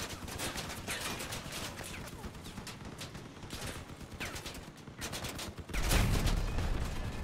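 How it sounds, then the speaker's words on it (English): Gunfire in the vehicle combat game Crossout, with dense, rapid bursts of shots crackling continuously and a heavier, louder blast near the end. "They're shooting you from the side."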